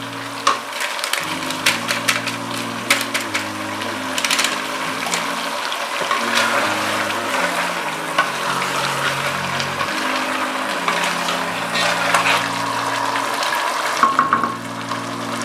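Tomatoes and masala fry in a pan for achar gosht, a steady sizzle with occasional stirring scrapes running throughout, close up, under soft background music and with no talking.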